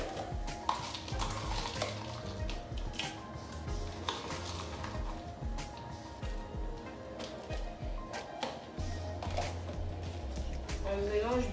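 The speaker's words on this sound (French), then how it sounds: "On mélange bien le tout" Sauce kôpê being stirred in a pot after shrimp powder and fish powder are added, with steady scraping and clinking of a utensil against the pot throughout, fairly close and continuous.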